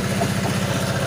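A well-drilling machine's engine, used for boring a 1.5-inch home well in front of a house, runs steadily at low throttle with a close, even, low chugging idle and no talk.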